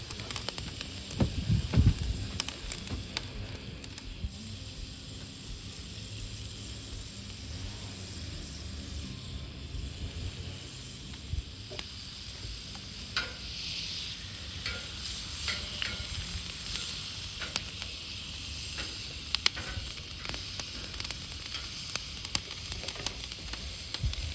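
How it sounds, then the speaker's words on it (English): Skirt steak sears on a hot grill with a steady, soft sizzle and crackle, occasional pops and spatters, heard alone with no talking. "Keep that high heat, sear it off on the outside"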